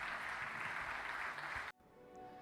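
Church congregation applauding during a worship service, a steady dense wash of clapping that cuts off abruptly, leaving a quiet hum and faint room noise.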